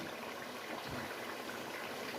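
Water poured into a pot of mutton korma over fried masala, a soft continuous gushing and bubbling hiss at low level, with no talk.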